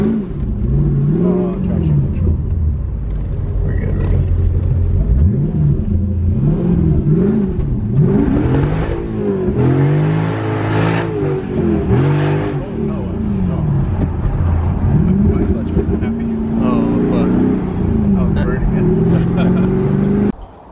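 A Mercedes C55 AMG's engine revs repeatedly while driving, loud and close, with rising and falling pitch sweeps from gear changes and hard acceleration, while people talk over it.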